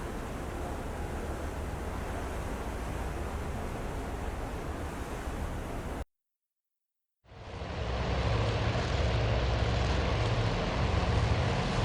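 Carrier aircraft taking off from a flight deck in the naval strategy game Task Force Admiral, a steady loud roar of engines and rushing air that cuts out briefly, then returns even stronger.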